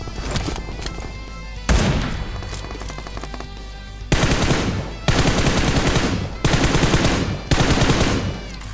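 Loud automatic gunfire in a video game: an opening burst, then several long bursts of rapid shots separated by brief pauses, ending abruptly as the ammunition runs out.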